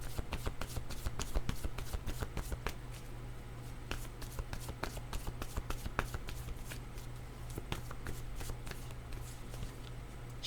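Playing cards are shuffled close by in a quiet room, giving a rapid series of crisp riffling flicks over a low background hum.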